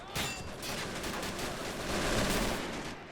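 Intense gunfire rages in Men of War: Assault Squad during the 1944 D-Day Normandy beach landings, a dense, continuous rattle of rifle and machine-gun bursts with heavier thuds mixed in, loud and unbroken throughout.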